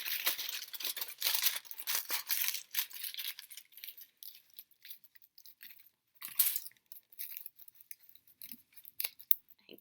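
Aluminium foil being wrapped and crumpled by hand into a small sculpture, close crinkling bursts that come in uneven clusters, dense at first and then thinning into sparse crackles and one sharp tap.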